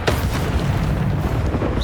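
A fiery Incendio spell bursts in the Hogwarts Legacy video game, a loud booming whoosh with a sharp onset that rumbles on briefly.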